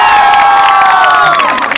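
An audience greets a teacher with loud, high-pitched cheering and shouting, a single surging roar that swells and then tails off briefly at the end.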